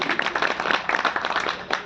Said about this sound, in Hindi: एक बार और तालियां इनके लिए भी होनी चाहिए